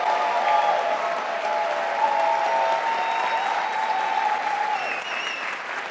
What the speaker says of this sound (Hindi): जॉर्डन के लिए ताली हो जाए